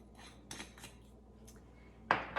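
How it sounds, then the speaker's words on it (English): Soft metallic clinks and scrapes of kitchenware while making jambalaya, ending with a louder clank as a lid settles onto a pot. "And now I'm simply going to put a lid on it"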